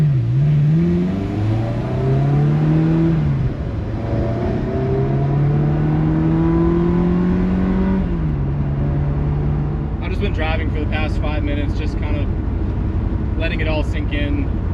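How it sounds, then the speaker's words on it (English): A Ferrari 360 on a drive, its engine induction note droning loud and close, rising and falling through gear changes, with a speaking voice briefly heard over it near the end. "Induction noise, God, so cool."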